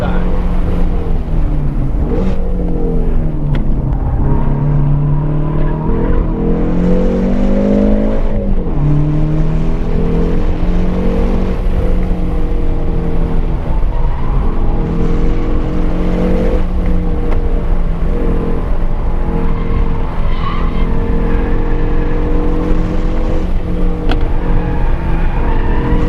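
A car on a race track, either a Hyundai Veloster N or a Ford Focus RS, drives a fast timed lap. The engine howls loudly and steadily, rising and falling through repeated upshifts and downshifts, with someone talking over it.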